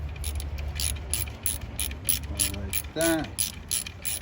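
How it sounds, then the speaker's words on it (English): Stubby ratchet wrench working a 10 mm back bolt on the alternator of a 2007-2014 GMC Yukon XL Denali 6.2, giving a steady run of close, rapid clicks with a short voice heard midway. "I got this little stubby wrench here"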